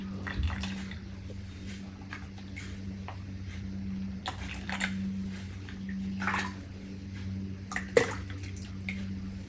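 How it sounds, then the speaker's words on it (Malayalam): Water is poured into a small home aquarium as a steady trickling splash with scattered drips, close and fairly quiet over a constant low hum. "വെള്ളം നമുക്ക് ഒഴിച്ചു കൊടുക്കാം."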